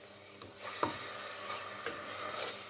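Minced meat fries in a pan, a faint, soft sizzle broken by a few scraping stirs and light utensil knocks, close and quiet.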